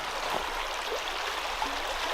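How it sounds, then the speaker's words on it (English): A small creek running full after rain: a steady, close rushing and gurgling of water that fills the whole stretch without pause. "Definitely got water running"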